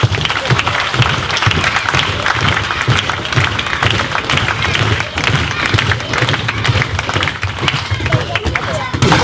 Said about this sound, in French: Et on doit applaudir Nassim